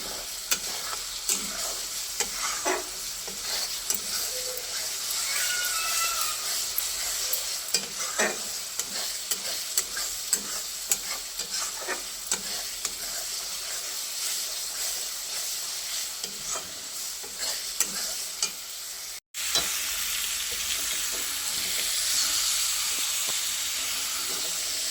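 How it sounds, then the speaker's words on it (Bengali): Desi chicken being sautéed with spices in a pan, a steady close sizzle with frequent scraping stirs throughout and a brief break near the end before the frying resumes. "সমস্ত মশলা দিয়ে কিন্তু আমি ভালো মতো কষাতে দিয়ে দিয়েছি।"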